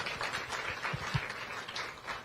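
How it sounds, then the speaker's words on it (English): Audience members at a cocktail reception with the EPA Administrator clap, a thin, uneven patter of hands with a few sharper individual claps and low murmuring beneath. "Let's give him another round of applause"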